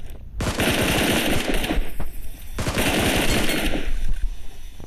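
Loud bursts of rapid automatic gunfire from the BGMI battle royale game come in two long volleys with close, sharp repeated shots.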